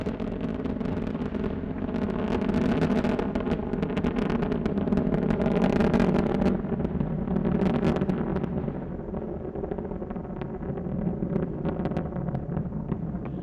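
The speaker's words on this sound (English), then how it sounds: "Three engines now throttling down as Endeavour passes through the area of maximum dynamic pressure on the vehicle in the lower atmosphere." Space Shuttle Endeavour's three main engines roar through launch ascent on mission STS-134 in 2011, a loud, continuous broadband rumble with crackling texture that swells and eases slightly across the span, heard alone without talk.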